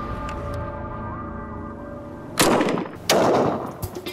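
Two sharp, loud gunshots ring out in quick succession, fired into a stack of phone books during a MythBusters ballistics test, each blast followed by a short rumbling decay after a quiet lead-in.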